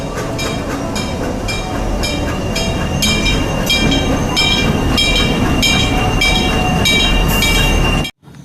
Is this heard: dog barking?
no